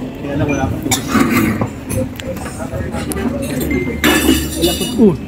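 Glasses clinking together during a toast at a company Christmas party, with bright overlapping clinks and a possible breaking sound amid a noisy crowd of talking and cheering voices.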